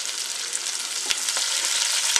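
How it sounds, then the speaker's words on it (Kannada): Chopped onions fry steadily in hot oil for a chicken dish, a close, continuous sizzling hiss with a couple of faint clicks from the pan. "ಈಗ ಇದು ಎಣ್ಣೆನಲ್ಲಿ ಸ್ವಲ್ಪ ಫ್ರೈ ಆಗಬೇಕು"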